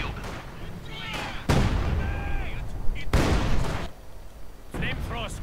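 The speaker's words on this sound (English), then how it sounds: "We are being shot at! Rocket launcher on the field." Gunfire and rocket launcher blasts in a real-time strategy war game, heavy booming shots and bursts fired at intervals over constant battle noise.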